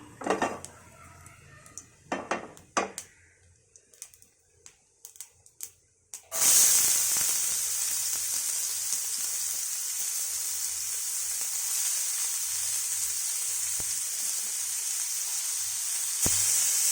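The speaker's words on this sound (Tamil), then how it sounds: "இதை நம்ம எண்ணெயிலே போட்டுப்போம்." Onion and curry leaves drop into hot oil for a Chicken 65 kuzhi paniyaram snack. Light clinks come first, then a sudden loud, steady sizzle that carries on alone to the end.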